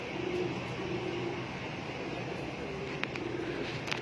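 A pigeon coos softly in low, repeated throaty phrases against steady background noise, with a couple of faint clicks near the end.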